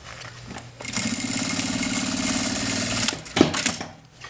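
A sewing machine stitching fabric for a scrap-fabric pouch runs in a fast, even mechanical whir for about two seconds, then stops, followed by brief handling clatter, close and without speech.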